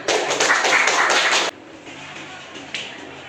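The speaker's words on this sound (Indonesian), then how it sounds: "Kita aplaus untuk kita semuanya" Classroom applause from a group of students, loud, dense clapping for about a second and a half that stops abruptly and leaves a quiet room with a few small noises.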